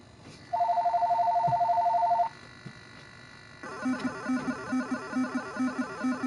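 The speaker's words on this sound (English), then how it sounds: "Oh, got a phone call." A telephone-style electronic tone beeps in a rapid steady burst, pauses, then a second warbling ring pattern repeats in regular pulses, clear and close with no talking.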